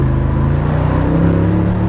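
A Mercedes G63 AMG engine revs through a MagnaFlow exhaust, giving a loud, close, deep rumbling drone that holds steady for under two seconds.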